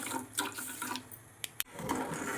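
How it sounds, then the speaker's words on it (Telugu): Water splashes from a vessel onto sugar in a pan while making Bombay Karachi halwa, a close, splashy pour with a couple of sharp knocks near the end and a brief gap before the pouring resumes. "తగినంత వాటర్ పోస్తున్నాం."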